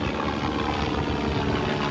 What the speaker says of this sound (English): Helicopter coming out doing a tour.